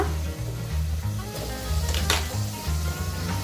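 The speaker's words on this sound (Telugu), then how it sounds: "టమాటాలు కూడా వేసేసుకున్నాము ఒకసారి తిప్పేసుకుందాం" Tomatoes stir-fried in a pan alongside potato for a dried-fish curry, giving a loud continuous close sizzle with rhythmic scraping stirs throughout.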